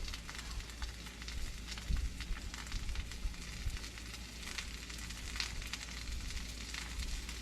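Hash browns fry in melted margarine with a faint, steady sizzle and crackle, broken by soft scattered pops and stirring clatter.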